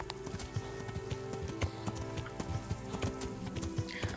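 Horse hooves clip-clop at a steady trotting rhythm on a trail in the video game Kingdom Come: Deliverance, close and continuous, with a brief faint whinny and no talking.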